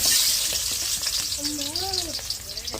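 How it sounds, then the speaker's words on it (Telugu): Onions frying in hot oil in a pan, a steady broadband sizzle filling the clip with brief stirring sounds, while a high whistling or voice-like tone rises and falls in the middle. "నూనె అయితే మంచిగా వేడెక్కింది, ఎర్రగడ్డలు వేసుకున్నాము"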